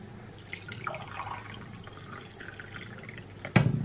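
Hot water trickles into a cup for green fasting tea, a faint steady pour in a quiet room that ends with a sharp clink near the close.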